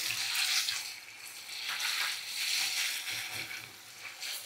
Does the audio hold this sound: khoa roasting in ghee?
yes